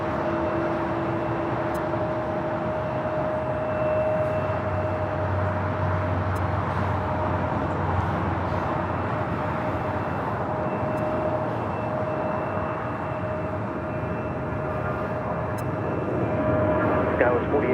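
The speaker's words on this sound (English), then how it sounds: "our next takeoff here on the south side, Southwest Airlines flight 3603 heading to Dallas Love Field. A 737-800" A Southwest Airlines Boeing 737-800 taking off at LAX, a steady broadband jet roar with faint whining tones, heard at a distance with muffled voices underneath.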